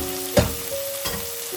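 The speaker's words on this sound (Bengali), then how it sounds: "ঢাকা দিয়ে দিয়ে এভাবে নাড়িয়ে মশলাটাকে কিন্তু কষাতে থাকতে" Spice masala frying with onion in a pan for prawn curry: a short sizzling hiss with a couple of stirring scrapes, close by, alongside a faint steady hum.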